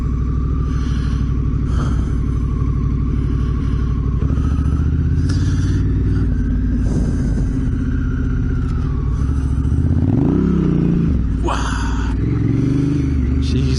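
A Honda Africa Twin motorcycle riding off near Lands End at the southern tip of Australia, its engine rumbling loud and close with the revs climbing and shifting as it pulls away.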